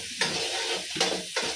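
Spices tempering in a wok, a bright continuous sizzle broken by three rhythmic stirring strokes, close and fairly loud.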